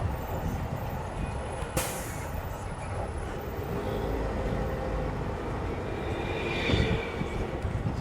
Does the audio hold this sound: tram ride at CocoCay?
yes